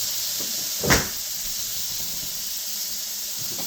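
Ground hamburger meat sizzles in a hot pan with a steady, even hiss, broken once early on by a short clatter; no one speaks.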